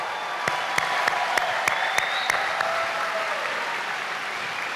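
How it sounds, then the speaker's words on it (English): Applause from a graduation audience at a commencement ceremony held indoors at a performing arts center, a dense steady wash of clapping with a few sharper individual claps standing out, moderately loud and sustained throughout. "Give yourselves a round of applause."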